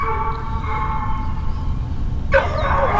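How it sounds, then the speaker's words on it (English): A dog barks once, sharp and fairly close, during a raccoon hunt, after a stretch of quiet outdoor ambience with faint tonal background sounds. "Is that Jack barking?"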